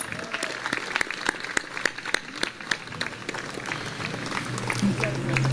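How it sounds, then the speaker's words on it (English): An audience at a city induction ceremony applauds its officials, steady crowd clapping with sharp individual claps standing out, while a voice speaks over it and a low hum enters near the end. "Another round of applause for all of them, please"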